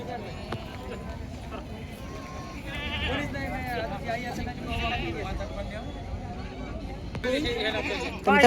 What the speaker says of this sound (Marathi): मोठ्या पंपाची गावरान शेळी आहे